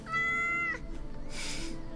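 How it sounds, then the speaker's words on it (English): A cat meows once in the video game Yes, Your Grace, a clear, close, drawn-out cry followed by a soft rustle. "There's a cat there."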